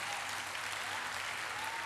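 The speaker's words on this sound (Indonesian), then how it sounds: "Berikan tepuk tangan yang meriah buat Tuhan." Steady, dense applause from a church congregation at a sermon, a continuous wash of clapping filling the whole moment.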